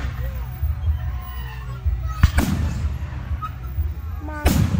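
Fourth of July fireworks go off at a distance, two dull booms a couple of seconds apart over a low background rumble, while people talk nearby.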